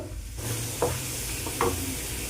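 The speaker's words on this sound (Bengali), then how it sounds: "এটা তেলের মধ্যে দিয়ে দিলাম লাল লাল করে ভেজে নেব রসুনের কোয়াগুলো" Chopped garlic cloves hit hot oil with a sudden sizzle that settles into a steady frying hiss, punctuated by two brief stirring scrapes, with no one talking.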